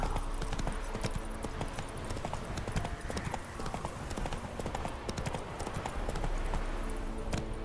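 Horse hooves clip-clopping steadily in The Witcher 3, a brisk continuous rhythm of close, fairly loud hoofbeats on a road, with faint game ambience behind.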